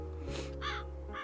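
Crow cawing in the video game Calico, two or three short, harsh caws heard close and clear over a steady low background hum.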